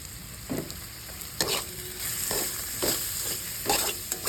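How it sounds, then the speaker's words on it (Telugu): Tomato cooked down with salt and chili powder frying in a pan, a steady low sizzle broken by several scraping stirs at regular intervals, close and moderately loud with no talking. "ఉప్పు కారం కూడా బాగా ఫ్రై చేసుకున్నాం"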